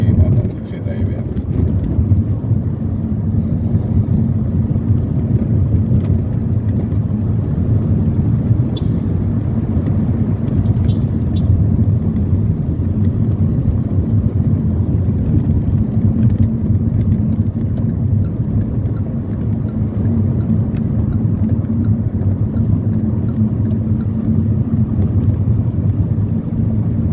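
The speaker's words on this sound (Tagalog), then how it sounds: "Gusto ni manong taxi driver ito mga idol na magmamadali masyado si manong taxi driver" Taxi speeding through traffic in Guadalupe, Makati, a steady loud rumble of engine and road noise from inside the car, broken by scattered rattles and faint ticks that run the whole way without a break.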